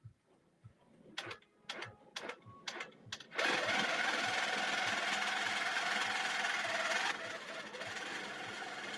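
A sewing machine runs a few short stop-start bursts of stitching, then a steady continuous rattling run that eases slightly near the end, close and alone.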